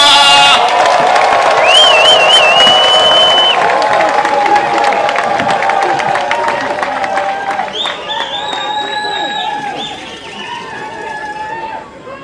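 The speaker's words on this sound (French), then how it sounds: "Et je demande à toutes les filles, tous les fils de l'espace Grand Kasaï de l'applaudir." A large crowd at a Kasaï regional political rally cheers, whistles and claps in a loud, continuous roar, with shouting voices and a few shrill whistle-like tones rising over the noise before it slowly fades.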